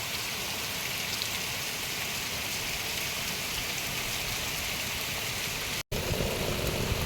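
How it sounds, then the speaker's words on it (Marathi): Heavy monsoon rain on a rural farm settlement pours down in a dense, constant roar, drumming on surfaces close by, broken only by a split-second gap. "इथं समजा लय मोठा मुसळधार पाऊस आहे"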